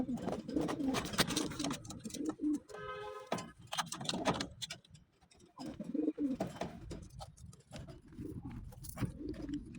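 Pigeons coo repeatedly at close range, soft throaty calls rising and falling over a few seconds, with faint rustling and a brief pause midway.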